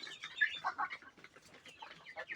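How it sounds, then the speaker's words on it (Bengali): Fifty quails in a small backyard quail farm give quick, high-pitched chirping and clucking calls in short overlapping bursts, faint and close, with no talk. "এখানে আমার 50 পিস কোয়েল পাখি আছে"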